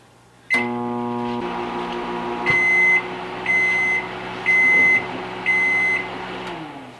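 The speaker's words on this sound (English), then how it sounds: "And then it says to microwave for 30 seconds." A microwave oven hums steadily with a low drone, then four sharp beeps ring out at regular intervals over the running hum.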